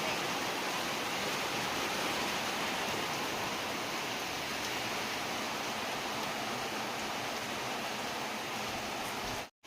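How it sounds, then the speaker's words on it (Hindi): Heavy rain pours down in a dense, continuous hiss, loud and unbroken for nearly ten seconds before stopping abruptly. "वर्षा प्रबल अति अति प्रबल होगला पूरा"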